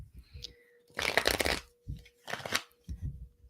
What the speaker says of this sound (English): Let me pull some cards for you.